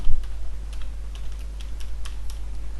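Keys on a computer keyboard are tapped in a quick, irregular run of light clicks while a password is typed during a Windows Server 2016 Core setup, with a steady low hum underneath and no talking.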